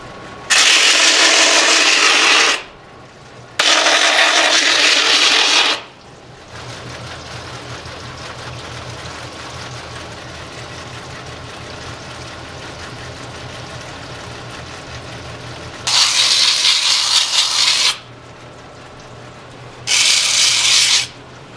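A handmade kitchen knife blade is polished against a rotating wheel in loud, harsh grinding bursts of two to three seconds, separated by steadier low machine running.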